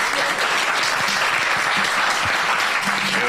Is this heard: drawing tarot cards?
no